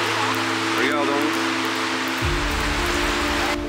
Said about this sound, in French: Et là il y a de l'eau qui coule partout.